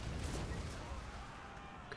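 Cannons boom in a Total War: Warhammer 2 battle as a dense, rumbling barrage of distant artillery blasts, blending into continuous low battlefield noise with a few sharper pops standing out.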